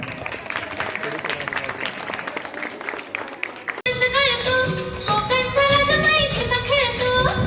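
Audience clapping at a Mangalagaur women's gathering, a dense patter of applause over chatter that gives way to a sung Marathi folk game song.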